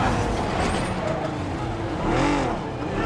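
A car is forced to a halt in Marvel's Spider-Man, a brief burst of engine and road rumble with a rising, sweeping tone near the end, heard under game ambience.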